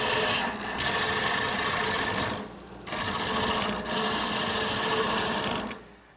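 A gouge cuts wood on a spinning lathe, giving a steady rasping shear in long sustained passes with brief lulls between them, close and fairly loud with no talking.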